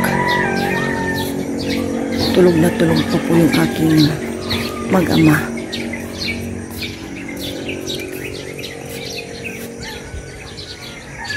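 Birds chirp and tweet at dawn, with chickens calling somewhere in the mix, as a soft voice talks quietly over the calls for the first few seconds before the birdsong carries on alone.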